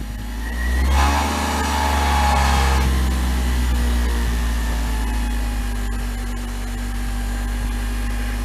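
A homemade diamond disc grinder motor runs steadily at about three-quarter throttle, with a brief rise in speed near the start before settling into a continuous, close hum and whine.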